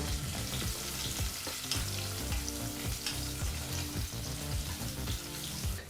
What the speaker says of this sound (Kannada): ಮೀಡಿಯಂ ಫ್ಲೇಮ್ನಲ್ಲೇ 2 ನಿಮಿಷ ಈರುಳ್ಳಿನ ಚೆನ್ನಾಗಿ ಫ್ರೈ ಮಾಡ್ಕೋಬೇಕು.